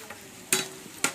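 Brinjal thokku being stirred in a frying pan: two sharp scraping strokes stand out over a soft steady sizzle, with a fainter tap between them, close by.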